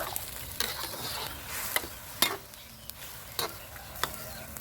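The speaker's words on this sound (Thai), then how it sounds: "ผัดเนื้อหมูกับพริกแกงเข้าเนื้อแล้วก็ใส่น้ำเปล่าลงไปนะครับ" Pork frying with Thai curry paste in a pan, a low continuous sizzle broken by sharp, irregular clacks of a spatula against the metal as it is stirred, close and fairly quiet with no talk.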